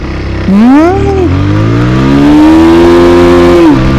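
A Bajaj Pulsar 180 motorcycle accelerates hard in first gear, its engine note climbing steadily in pitch as it revs up, loud and close throughout with a brief dip and rise near the end.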